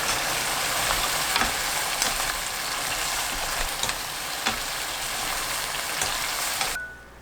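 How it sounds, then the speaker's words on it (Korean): Thin-sliced beef brisket stir-fries with doenjang, chili and scallions, sizzling loudly and steadily in a hot pan with faint stirring scrapes, then cutting off abruptly at the end. "고추, 파 넣고 섞은 뒤 바로 불을 끄고 후추 한 꼬집 넣어주세요."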